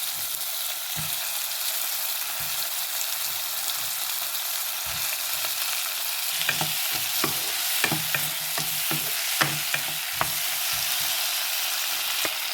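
Potatoes sizzle steadily in a hot pan while a utensil stirs them, scraping clicks and knocks scattered over the constant frying hiss, close and fairly loud.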